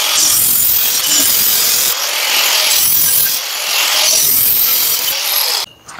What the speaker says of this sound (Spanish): vamos a terminar de cortarlo igual. Me parece también sencillo con la pulidora.